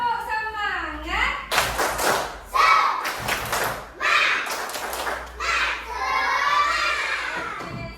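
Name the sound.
children clapping in a class clapping chant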